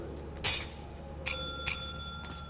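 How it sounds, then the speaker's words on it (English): A bell rung repeatedly, with several bright, ringing strikes spread over a couple of seconds and the last tone hanging on, heard alone over a quiet background. "Don't fucking spam that bell while I'm there."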